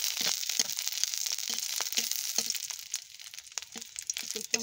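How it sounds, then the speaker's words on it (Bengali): Dried red chilies fry in hot oil for a chepa shutki bhorta, giving a steady close crackling sizzle dotted with sharp pops and rustles, with no talking. "এরপরে দিয়ে দেব আমি শুকনো মরিচ"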